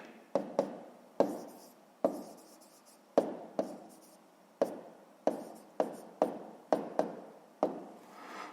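A pen writes out a maths answer by hand on paper, irregular short scratching strokes each starting with a soft tap, close and quiet with brief gaps between strokes.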